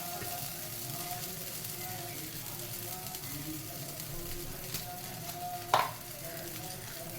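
Ghee and oil mixed with cumin seeds sizzling on a pesarattu mung bean crepe on a hot pan, a steady low crackle with one sharp clatter near the end.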